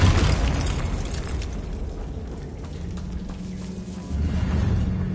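A Confringo fire spell goes off in the Hogwarts Legacy video game: a deep, rumbling explosion boom that fades, then a second low swell near the end, with no voices.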